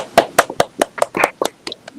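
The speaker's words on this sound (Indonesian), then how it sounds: "Tepuk tangan juga untuk Putra dan kelompoknya." A classroom audience claps for a student group after a presentation: a short run of about ten sharp, fairly evenly spaced claps, close and moderately loud, with no talking over them.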